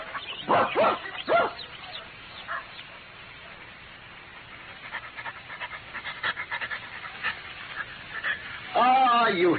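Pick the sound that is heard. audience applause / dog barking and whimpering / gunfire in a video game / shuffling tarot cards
dog barking and whimpering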